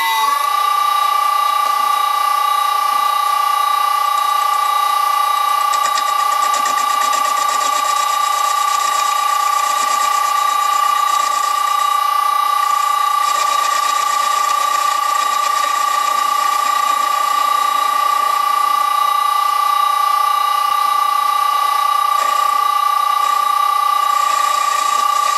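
A 1946 Karger lathe driven by a VFD at 60 hertz facing off a test piece, giving a steady high mechanical whine with a strong sustained tone and a faint scraping cutting texture running throughout.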